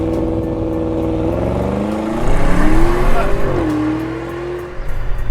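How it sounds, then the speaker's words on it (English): An Audi SQ7 seven-seat SUV with a twin-turbo V8 accelerates hard, its engine note climbing through the revs, dropping briefly at a gear change, then pulling again, loud and close. "Thanks to this, the twin-turbo V8 producing 373 kilowatts."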